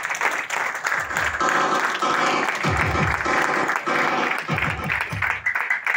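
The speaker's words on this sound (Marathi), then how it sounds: "एकदा जोरदार टाळ्या झाल्या पाहिजे" Loud, sustained applause from an audience fills the whole stretch, with dense clapping and crowd noise swelling in waves.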